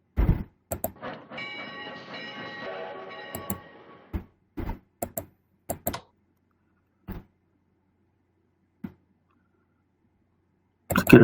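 Railway rumble and clicks come from a train in the World War II strategy game Strategic Command, with a brief tonal whistle-like passage early on, then scattered short clicks separated by silences.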